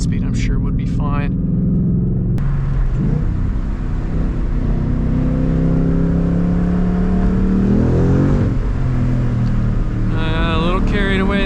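A 2016 Ford Mustang GT with a manual gearbox accelerates hard on the road, its engine revving up through the gears with rising and falling pitch, heard from inside the car alongside a speaking voice.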